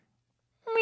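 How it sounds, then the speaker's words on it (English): After near silence, a single short cat meow sounds abruptly at the very end, clear and close. "Meow."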